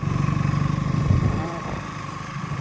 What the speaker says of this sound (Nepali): गुडिरहेछ बाइक रफ्तारमा